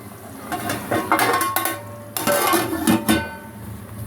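A metal lid clanks onto a cooking pot of boti curry with tomatoes, a cluster of sharp metallic clinks and rattles in two close bursts, near and fairly loud.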